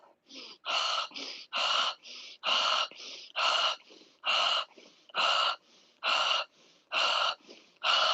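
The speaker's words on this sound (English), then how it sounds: "you can do that with the more emphatic breath and exhale with the mouth" A woman breathing emphatically and exhaling through the mouth during a glute and thigh exercise, a rhythmic series of about a dozen sharp, close breaths, alternating louder and softer, with no talk.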